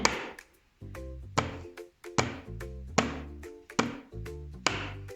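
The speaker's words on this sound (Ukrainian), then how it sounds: "Давайте постукаємо твердим кубиком і послухаємо, чи вміє він співати." A hard toy cube is tapped about eight times in a steady rhythm, each knock sharp and resonant with a brief ringing tail.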